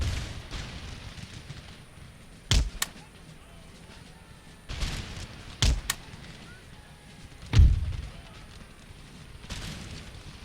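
Musket volleys and cannon blasts from an Empire Total War battle near Istanbul, with several sharp cracks and booming thumps spread unevenly over a low, rumbling battlefield din, moderately distant.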